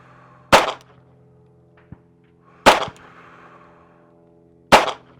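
Three sharp handgun shots ring out at a shooting range, fired one-handed with the support hand, each a loud close crack spaced about two seconds apart with a faint click between them.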